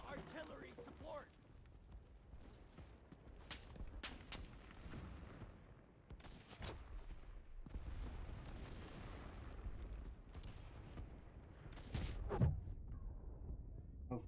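Artillery fire support in a video game, with repeated sharp booms and blasts over a continuous rumble of distant explosions, with people talking at times throughout.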